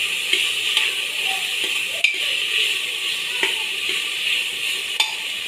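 A paste of ginger, garlic, green chili and coriander fries in hot oil, a steady close sizzle broken by a few light taps and scrapes of the stirring spoon.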